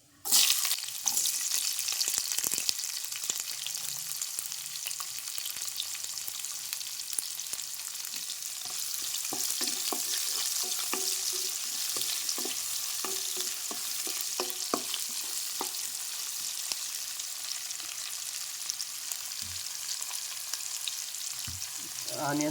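Onions and green chillies frying in a pan for tomato pepper rasam: a continuous, close, loud sizzle with occasional scrapes and clatters of stirring throughout, no speech.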